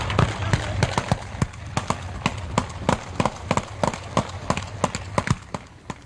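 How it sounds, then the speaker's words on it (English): Guns fired into the air by Outlaws motorcycle club members at a graveside funeral service, a long run of sharp, loud cracks in quick, fairly steady succession over a constant outdoor rumble. "some outlaw members fired off weapons into the air"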